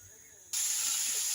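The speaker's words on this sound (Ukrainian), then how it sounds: "І ось у мене смажиться сало, таке досить м'ясне." Sudden loud broadband sizzling of pork fat frying in a pan starts about halfway through, a steady hissing fry after a quieter start.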